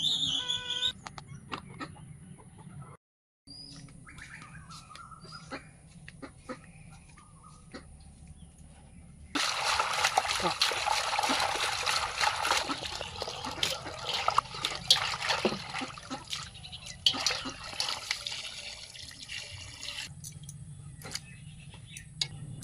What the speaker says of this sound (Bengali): মাছটাকে আমরা বেশ কয়েকবার পরিষ্কার জল দিয়ে ধুয়ে নিলাম